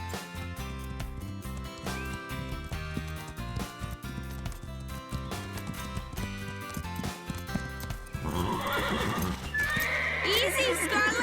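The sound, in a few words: horses neighing and hooves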